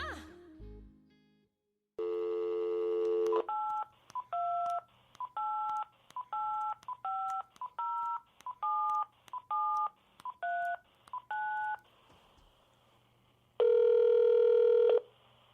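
A telephone keypad sends a steady series of about a dozen evenly spaced DTMF tones, bracketed by a dial tone before and after, loud and close with no talking.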